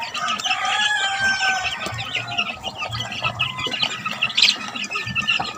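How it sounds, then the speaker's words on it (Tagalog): Chickens cluck and squawk almost constantly with a rooster crowing among them, dense and fairly close, on a rural cockfighting farm where gamecocks are being conditioned. "atong mga manok na kiso oh"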